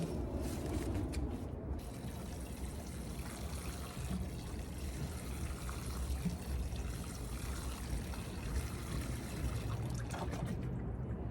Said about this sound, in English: But I will water the soil beforehand.